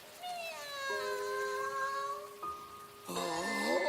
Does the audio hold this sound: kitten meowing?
yes